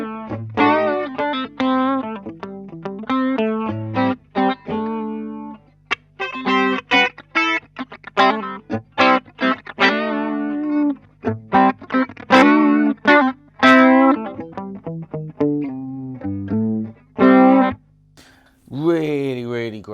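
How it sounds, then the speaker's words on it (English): Electric guitar run through a Boss chorus pedal, picking a lush, shimmering melodic line of short, separated notes over a steady low drone. The notes come in quick phrases with brief gaps, close and fairly loud, with no talking. "here's some chorus. Absolutely beautiful, lush sound."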